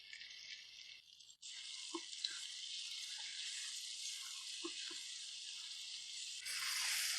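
Chicken pieces frying in hot oil in a pan for chicken karahi, with a steady, loud broadband sizzle that runs without a break and swells near the end, plus a few soft clinks from the pan.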